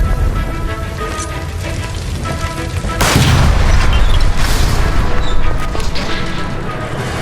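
A gas line explosion in the L.A. Noire video game: a loud, sudden boom bursts over a dense, continuous roar of game noise and stays heavy and rumbling afterward.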